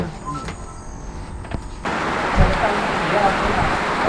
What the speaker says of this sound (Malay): Sekarang pun cuaca hujan makin lebat.